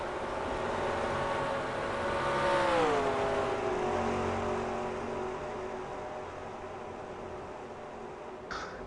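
Race cars in a sim racing game on the Virginia circuit, an engine note swelling to a peak and falling as one car passes, then a steady fainter drone.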